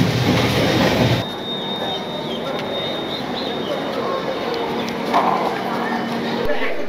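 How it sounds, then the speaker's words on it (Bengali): A passenger train runs on its tracks toward NJP station. A loud rush is followed by a steady, rumbling clatter of wheels on rails, with faint squeals and brief voices in the background. "ট্রেন ছেড়ে দিয়েছে।"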